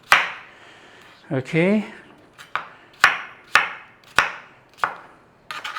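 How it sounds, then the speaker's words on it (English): A knife slices through an onion on a chopping board in sharp, distinct thuds spaced about half a second apart, loud and close, with a brief spoken word and a short scraping sound in between. "We are just going to slice the onion that way."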